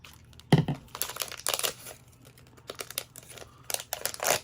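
Scissors cut open the plastic packaging of a Disney Princess blind bag, with crinkling plastic, snipping and tearing in short bursts close up, and no talking.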